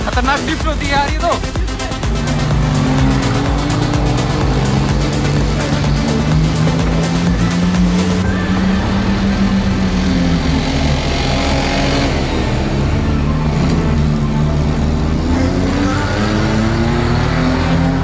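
A Maruti Alto car being driven, its engine droning and rising in pitch as it accelerates and shifts, loud and close from inside the cabin for the whole stretch, with a brief change in tone partway through.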